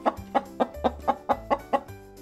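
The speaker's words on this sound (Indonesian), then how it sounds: "Ayam suka berkokok di pagi hari" A chicken clucks in a steady, rhythmic series of about nine sharp calls over a low humming background, close and clear, with no talking.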